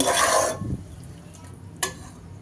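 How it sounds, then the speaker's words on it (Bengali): Beef being stir-fried with spices in a pan for khichuri, a loud burst of stirring and sizzling at the start that fades quickly, followed by quiet with one brief clink. "মাংসটা খুব সুন্দর করে মশলার সঙ্গে মিশিয়ে কষিয়ে নেব"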